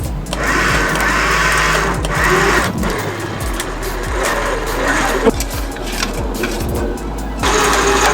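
An electric winch drives a steady mechanical whine while pulling a Jeep Gladiator up onto trailer ramps, continuous and fairly loud with small rises and dips, over a low engine rumble.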